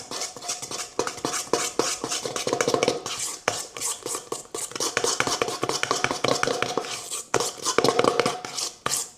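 Cupcake batter for lemon drizzle cupcakes stirred by hand with a utensil in a bowl, producing close, irregular scraping and tapping strokes with brief pauses, and a soft voice faintly present now and then.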